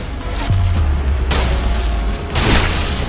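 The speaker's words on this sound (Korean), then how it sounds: "깔끔한 헤드샷." Gunshot headshot in the video game Limbus Company, a loud booming impact with a deep low thud, followed by a second heavy crash moments later.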